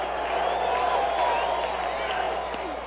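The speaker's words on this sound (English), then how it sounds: "Listen to this crowd." Ballpark crowd at a 1981 Mets baseball game in the ninth inning, a steady distant roar of cheering and murmur filling the stadium.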